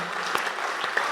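An audience at a Hindi poetry recital claps, a dense steady wash of applause heard briefly.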